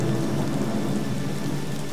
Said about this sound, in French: Où est la pluie qui a tombé là?